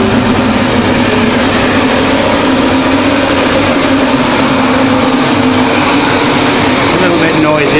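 A rebuilt studio ventilation fan runs at full speed, giving a loud, constant whooshing drone with a low hum underneath, steady from start to finish.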